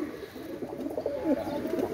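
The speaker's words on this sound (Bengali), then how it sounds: "একজোড়া ভোচাল কবুতর মাশাআল্লাহ" A pair of Bhochal pigeons coos in soft, repeated low throaty calls, close by and steady, with no voices over them.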